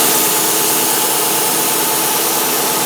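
A Subaru 2.5 engine with a no-power fault idles in a steady, dense rumble with some exhaust hiss, close and continuous, with no talk.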